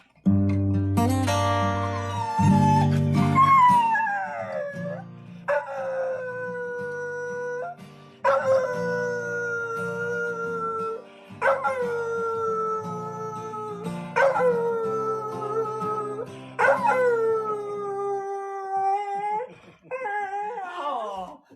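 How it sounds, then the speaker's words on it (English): A dog howls and wails in a series of long, rising-and-falling tones, about six sustained vocal phrases with brief gaps, loud and close, alone with no talk over it. "Oh, this is a good singing dog."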